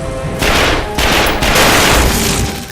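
Rapid, loud bursts of gunfire from The Darkness II shooter game, with several back-to-back volleys that blend into a dense, booming roar.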